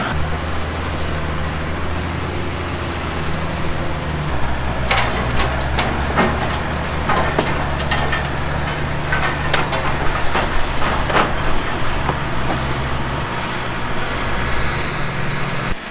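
A massive topsoil screener running on used vegetable oil gives a steady, loud engine rumble, with a flurry of rattling clatter from material passing through partway along.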